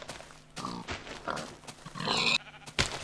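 A sheep in the Minecraft video game gives several short, nasal bleats in quick succession, close and fairly quiet, amid light game sounds.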